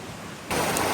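River water flowing near Sukute in Nepal, a brief wash that starts faint and swells abruptly halfway into a loud, broadband rushing noise, with no voices.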